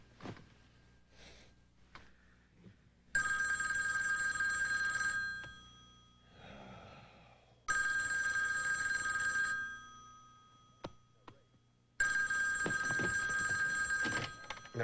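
A telephone bell rings in three loud, sustained bursts separated by quieter pauses with faint rustling and sniffing, close by.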